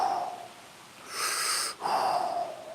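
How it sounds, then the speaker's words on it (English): Slow, deliberate mouth breathing drawn down into the belly, heard as a soft airy inhale followed by a brighter, hissing exhale after a brief pause, close and fairly quiet with no talking over it. "Mouth breathing into your belly."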